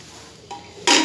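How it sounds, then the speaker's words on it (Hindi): A metal pressure cooker lid is set onto the pot while cooking carrot halwa, a brief scrape followed by a sharper clank, close and fairly loud in a quiet kitchen. "अब हम लगाएंगे कुकर का ढक्कन"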